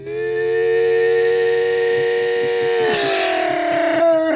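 A voice imitates an air raid siren, a loud sustained wail rising and holding steady, then sliding down with a wavering tail as it fades.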